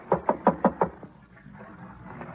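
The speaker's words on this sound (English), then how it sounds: "Go ahead and knock." Five sharp knocks land on a door in a quick, even series in a radio drama, followed by a quiet pause with faint room tone.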